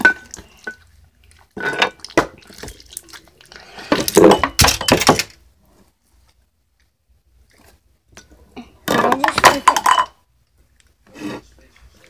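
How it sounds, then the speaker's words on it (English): Glass is broken in clattering bursts of impacts, scraping and crunching shards, several loud clusters separated by quiet gaps, with someone talking nearby. "I'm breaking my glass."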